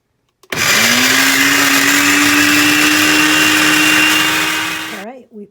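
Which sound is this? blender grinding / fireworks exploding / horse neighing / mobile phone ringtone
blender grinding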